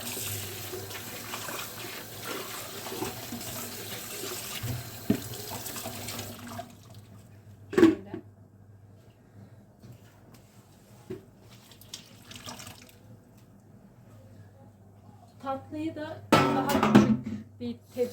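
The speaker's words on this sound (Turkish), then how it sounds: "bulaşığı bekletmeyin. Elimde yıkayın dedim." Dishes are washed by hand under a running kitchen tap, with a steady stream of water and occasional clinks of crockery; louder splashing and handling bursts come near the middle and end, with no talk.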